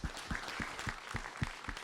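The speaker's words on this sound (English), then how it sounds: "And round of applause for our panelists." Audience applause for panelists at a Calgary Ward 7 candidates' debate, heard as a modest, scattered patter of claps with distinct individual hits, fairly quiet and steady across the short stretch.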